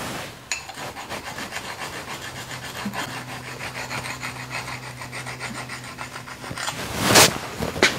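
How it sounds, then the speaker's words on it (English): Small stone rubbed back and forth over a hole in the feed gearbox of a Toolmaster mill: close, rhythmic rasping strokes under a faint steady hum, ending in a louder scrape. "So I'm going to just take a little stone and gently go over that hole on either side."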